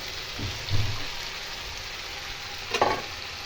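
Vegetables frying with soaked, drained sago pearls for sabudana pulao: a soft, steady sizzle with a couple of brief clatters of stirring against the pan, fairly quiet and close, without speech.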